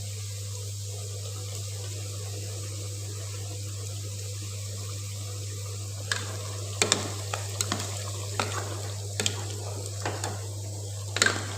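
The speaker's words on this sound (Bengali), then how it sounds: "তো গোস আপনার কষানি হচ্ছে" Meat being sautéed in a pan on a home stove, with a steady low sizzle and hum under irregular sharp clinks of a spatula stirring against the pan in the second half.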